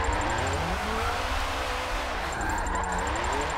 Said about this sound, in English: on Forza Motorsport 7 in Daishihara's Turn 14 Distributions Subaru BRZ